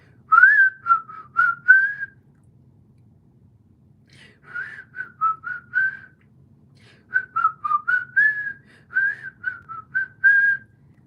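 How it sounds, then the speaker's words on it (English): A person whistles a short wavering tune in three phrases separated by pauses, close and clear over a low background hum. "Can I whistle?"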